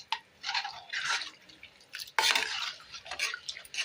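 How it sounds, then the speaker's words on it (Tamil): A spoon stirs mochai kulambu, a Tamil bean curry, in a pot, giving close wet scrapes and sloshes in uneven bursts, with a sharper clink of metal partway through. "இப்போ இதை நல்லா கட்டி இல்லாமல் கிண்டி விட்டுப்போம்."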